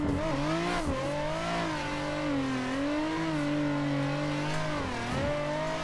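A Nissan 400Z drift car in a video game holds high, wailing revs with brief dips and surges as it slides, the engine loud and continuous throughout without speech.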